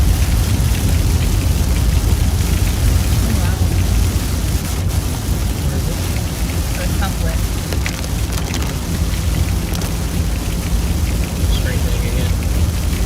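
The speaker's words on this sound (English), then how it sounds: "POV, it's just rain." Heavy rain during a tornado-warned thunderstorm near Laurel, Mississippi, a loud, constant wash of falling water with a deep rumble underneath, steady throughout.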